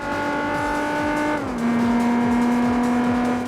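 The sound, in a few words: modded car engine sound in video game Gran Turismo 4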